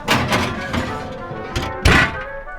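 An oven door shuts as a breadcrumb-topped dish goes in, with a few soft knocks and rattles followed by one solid, close thunk near the end.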